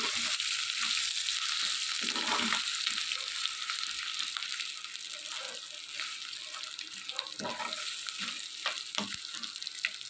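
Ground ridge gourd chutney being stirred and mixed in a hot pan, a steady sizzle broken by scraping, wet stirring sounds, close up and without speech.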